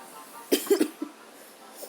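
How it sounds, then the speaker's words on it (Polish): A person with a cold coughs close to the microphone, a tight cluster of three quick, sharp coughs followed by quiet. "Przepraszam, że mam kaszel, ale przeziębiony jestem."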